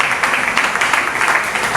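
Congregation applause and cheering fill a church during a Sunday worship service, a steady, dense wash of clapping that carries through the whole stretch with no pause.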